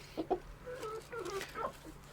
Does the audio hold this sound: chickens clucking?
yes